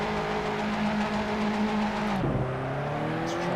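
Race cars in Assetto Corsa launch off the line at a race start, engines roaring loudly and steadily, with a pitch shift partway through as one shifts gear and the pack keeps accelerating.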